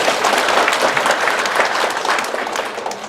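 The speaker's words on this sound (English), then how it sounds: "You should give yourself a clap." Dense applause from a gathered crowd at a seniors night event, steady and loud throughout with no talking over it.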